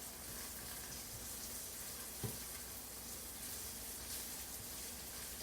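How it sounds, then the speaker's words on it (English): Okra and green beans fry in a skillet with a soft, steady sizzle and a faint hiss, plus one small knock partway through and a louder clatter at the very end. "So you see what it looks like in the skillet. Going to let this fry."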